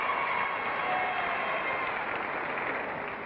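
A television game show studio audience applauds in a steady, dense wash of clapping that holds at an even level and fades slightly at the close.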